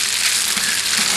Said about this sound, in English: I'm going to add some pasta to it.